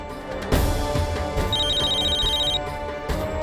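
A telephone rings with a steady electronic ringtone, a bright tone running for about a second over a background of soft music, with no voices heard.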